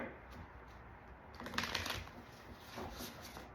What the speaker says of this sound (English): feel free to fast forward if you don't like to watch the shuffle